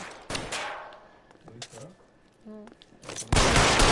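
Gunfire from the video game L.A. Noire: scattered bursts of shots, a loud one near the start, softer pops in the middle, and a dense loud burst at the end, with voices talking in between.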